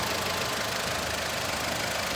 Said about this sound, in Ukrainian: Під капотом у нас трудиться ось такий двигунчик. Працює просто ідеально